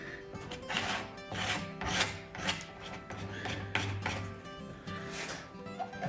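Excess wax is scraped and rubbed away from a filled cavity in wooden furniture during French polishing: a series of close, uneven rasping strokes, some short and some drawn out, with no talking.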